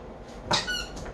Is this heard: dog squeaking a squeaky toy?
yes